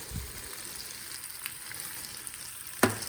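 Chicken sauce piquante stirred in a pot after Creole seasoning goes in, a soft steady sizzle underneath with a faint scrape early on and a sharper clink near the end.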